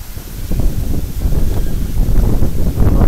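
Wind gusting through trees with rain falling, a steady broadband rush that swells and rustles without pause, close and fairly loud.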